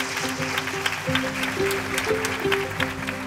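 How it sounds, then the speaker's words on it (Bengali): An audience at an award ceremony applauds in a steady, dense wash of clapping over music, sustained and fairly loud for the whole stretch. "একটু জোরে হাততালি দেন।"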